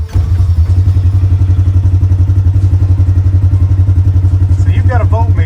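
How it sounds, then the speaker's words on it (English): A 2020 Polaris RZR XP 1000 Highlifter side-by-side engine runs with a loud, steady, rhythmic low chug throughout, close to the microphone. "So I'm going to crank the machine."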